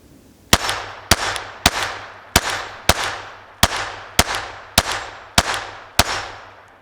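A Glock 44 .22 pistol firing mixed ammunition outdoors: ten sharp, loud shots in a steady rhythm roughly half a second apart, each with a brief decaying echo.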